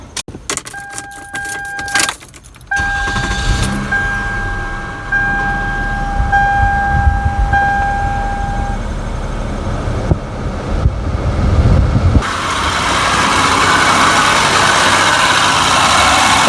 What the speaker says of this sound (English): Let's go ahead and start the car back up.